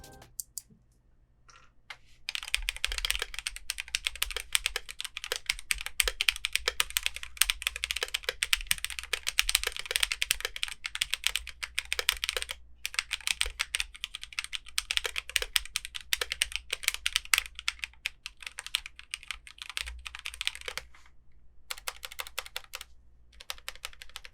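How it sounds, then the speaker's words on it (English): Steady, fast typing on a Redragon Castor K631 Pro mechanical gaming keyboard, with dense clacky keystrokes that continue for the whole stretch and pause only briefly, with no voices. "So let's check out a sound test."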